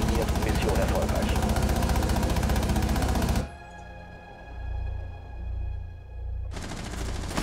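Loud, rapid automatic gunfire in Rainbow Six Siege, a dense continuous burst that cuts off into a low rumbling lull before firing resumes abruptly at the end.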